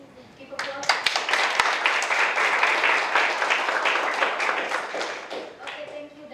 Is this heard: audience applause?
yes